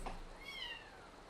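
A house cat meows once, close by, a short whiny rising call against a quiet room with faint game sounds.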